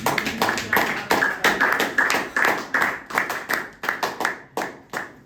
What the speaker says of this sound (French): Si on peut acclamer la parole.